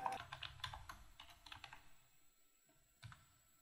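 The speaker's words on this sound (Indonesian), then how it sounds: "kita ketik di sini nama buah" Keys clatter on a computer keyboard as someone types into an Excel spreadsheet, a quick irregular run of close, quiet clicks that pauses briefly before a final keystroke, with no talking.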